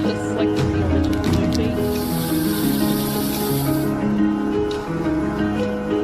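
Hissing aerosol spray paint can in a scene from the movie Guest 666 Reimagined, a steady bright spray burst lasting a couple of seconds over loud music and voices.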